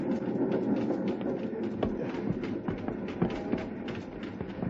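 A steam train rumbles and clatters steadily over uneven rails, with irregular knocks and jolts of the carriage rolling along beneath a continuous low roar.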